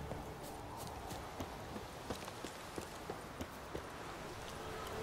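A horse in The Witcher 3 trots with steady, rhythmic hoof clops at a moderate pace, the beats crisp and close over a constant wash of ambient noise.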